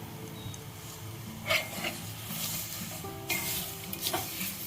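Herbs frying in hot oil in a pan for a homemade hair oil, a steady bubbling sizzle with occasional louder crackles and stirring scrapes.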